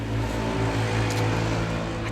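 A car passes nearby outdoors, a steady low engine rumble with a broad rushing hiss, fairly loud and continuous throughout with no talk.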